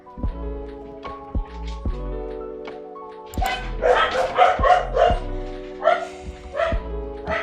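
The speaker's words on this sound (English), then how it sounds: "my dogs are being loud" Several household dogs barking loudly in close bursts, with yips and quick volleys clustered near the end and quieter gaps between them.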